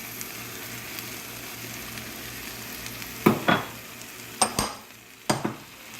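Ground beef sizzles steadily in a skillet with chili powder, black pepper and a little sugar, a soft continuous fry broken by a few sharp clatters of a utensil against the pan.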